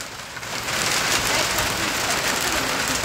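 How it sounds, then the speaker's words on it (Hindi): Steady rain pours down in a village setting, a dense, close hiss of drops hitting surfaces that swells slightly after the first half second and then holds evenly throughout. "बारिश आई तो है भाई"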